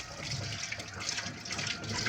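Water runs at a sink for washing, a soft continuous splashing and trickle heard close by at low volume, steady through the whole short stretch.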